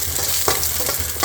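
Ginger stir-frying in a hot wok for a squid stir fry, a dense steady sizzle with quick scraping stirs of a spatula, close and loud.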